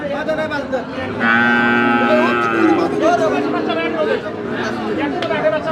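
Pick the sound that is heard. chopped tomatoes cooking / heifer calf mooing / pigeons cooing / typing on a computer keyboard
heifer calf mooing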